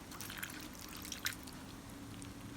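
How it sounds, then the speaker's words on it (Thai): Limewater is ladled and poured over santol fruit in a bowl, giving a soft, faint trickle with small splashes and drips against a steady background hum. "ตักน้ำปูนใสนะคะ ราดเขาให้ท่วมค่ะ"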